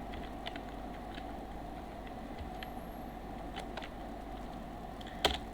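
Typing on a computer keyboard while working in Excel: faint, sparse key clicks scattered over a steady background hum, with one sharper, louder tap near the end.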